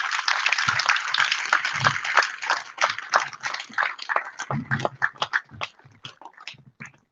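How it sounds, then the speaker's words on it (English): Audience at a memorial cricket tournament gives a round of applause, a dense burst of many hands clapping close by that gradually thins into scattered, sparser claps toward the end. "please give a round of applause for Deepak once more time"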